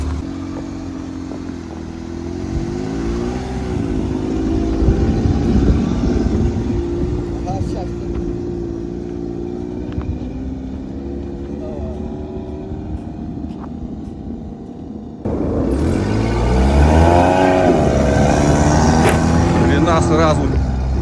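A new Karakat all-terrain vehicle drives through the taiga, its engine droning loud and close with shifting revs and clattering, growing rougher and louder in the last few seconds as a voice speaks over it.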